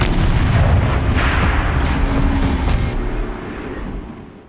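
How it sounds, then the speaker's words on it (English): A heavy turret firing in the video game Horizon Zero Dawn, a loud close booming blast followed by rumbling that slowly fades away, with no voices over it. "Rotate turret! And fire!"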